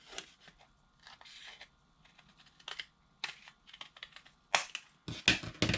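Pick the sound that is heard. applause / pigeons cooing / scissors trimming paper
scissors trimming paper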